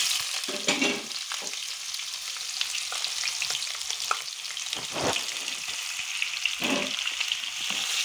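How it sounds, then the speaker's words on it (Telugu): Onions sizzling in hot oil with mustard seeds, cumin, urad dal, chana dal and curry leaves, salted while they soften for a potato curry; a loud, close, continuous fry with intermittent bursts of stirring. "ఉల్లిపాయలు కాస్త మగ్గిద్దామండి"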